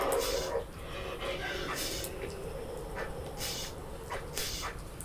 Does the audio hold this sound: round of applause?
no